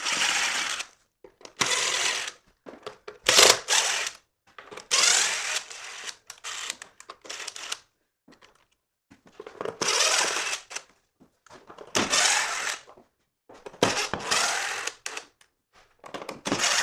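A drill with a Phillips bit backs screws out of an old Andersen sliding door, giving repeated close bursts of whirring separated by short gaps of near silence.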